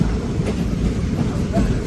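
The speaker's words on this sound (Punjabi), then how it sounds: "ਇਹ ਟ੍ਰੇਨ ਆ ਕਲਕੱਤਾ ਤੱਕ ਜਾਏਗੀ" Passenger train Ekta Express, number 14795, rumbles loudly along the track near Chandigarh Junction, a close, continuous low roar with rhythmic wheel clatter.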